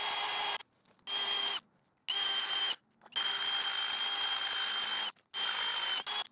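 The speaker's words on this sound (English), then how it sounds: "Just drilling a 9/16 hole here." A power drill boring a 9/16 hole whines in repeated bursts, several short runs and one long steady spin, with brief silent pauses between them, close by.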